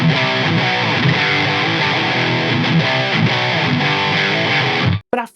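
Heavily distorted electric guitar with SSL-style EQ churns out dense, saturated riffing alone, loud and continuous, then cuts off abruptly near the end with a short final stab.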